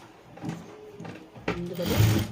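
A sewing machine stitches a blouse in short bursts, close and fairly loud, with three quick runs of rapid mechanical chatter separated by brief pauses.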